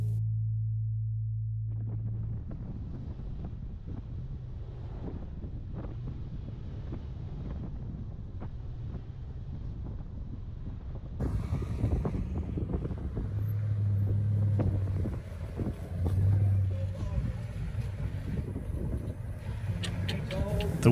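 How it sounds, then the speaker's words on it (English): Desert wind at Ocotillo Wells in Anza-Borrego buffets the microphone in a steady low rumble that grows stronger and gustier partway through. "The wind was beginning to build"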